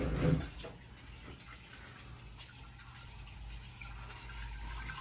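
Hot water runs steadily from a kitchen sink tap in a continuous, fairly quiet rush, with a slightly louder splash at the start.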